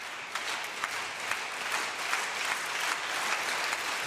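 A crowd at a women's table tennis Champions League match between KTS Enea Siarkopol Tarnobrzeg and TTC Berlin eastside applauds and cheers steadily in an indoor arena, with a few sharper claps standing out above the continuous ovation.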